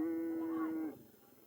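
A carabao water buffalo at a festival race in Bongabon moos once, a loud, close, sustained low call that bends upward before cutting off and leaving quiet background.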